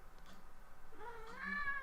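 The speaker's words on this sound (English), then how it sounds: "Again, that was my cat." A house cat gives a single drawn-out meow, rising and wavering, fairly close but soft against a quiet room, with no talking.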